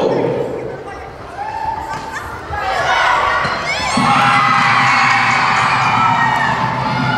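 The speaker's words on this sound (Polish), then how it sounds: "O, krzyk zachwytu." Spectators at a school sports olympiad in Pruszków cheer and whoop with delight during a dodgeball game, a loud, sustained crowd roar with shrill children's shouts swelling midway and holding to the end.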